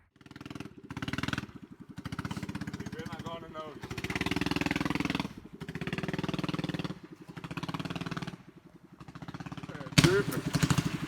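A small mini bike engine revs and putters while being ridden, its buzzing drone rising and dipping in repeated bursts, with people talking over it.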